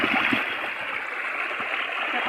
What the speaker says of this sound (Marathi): आता ही उकळी लागते ना अशी, ते झऱ्याचं पाणी म्हणतात.